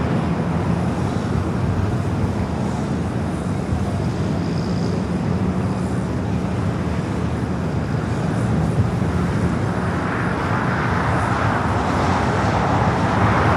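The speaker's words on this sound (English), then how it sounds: "Top Air Portugal wearing the FIFA World Cup Portugal sticker coming in from Lisbon. A330 Neo, number 2 for arrival here on the south." An Air Portugal Airbus A330neo arriving from Lisbon at Los Angeles airport makes a broad, steady jet rumble and rushing roar that swells slightly toward the end, with distant road traffic in the background.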